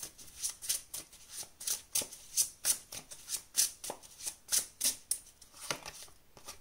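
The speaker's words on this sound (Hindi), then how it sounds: "हम एक एक कार्ड निकाल लेते हैं तीनों के लिए" Tarot cards drawn one by one from a deck, giving a steady run of soft, crisp papery flicks and slides at close range in an otherwise quiet room.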